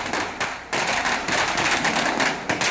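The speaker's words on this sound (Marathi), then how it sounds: "आत्ता या क्षणी बदलापूरमध्ये फटाके फुटले" Firecrackers burst in Badlapur in celebration after a police encounter, a loud, dense and continuous crackle of overlapping bangs with sharp onsets throughout.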